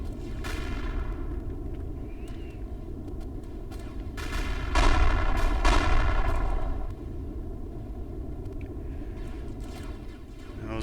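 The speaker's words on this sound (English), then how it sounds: "Those railguns up front all fire at exactly the same time" Railguns on a ship in a video game fire together, a heavy booming burst that swells in the middle over a constant droning engine hum, with some scattered higher zaps.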